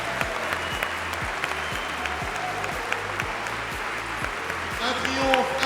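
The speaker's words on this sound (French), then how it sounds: "Un triomphe, un tonnerre, des applaudissements." Audience at a martial arts gala in Meudon breaking into sustained applause, dense clapping from a large crowd with a loudspeaker voice talking over it.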